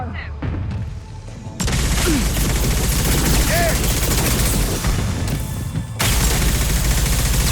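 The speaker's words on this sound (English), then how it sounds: "Shotgun!" Shotgun fire and combat in Mass Effect 2, with a heavy continuous barrage of loud blasts and crashes. A voice talks over part of the fighting.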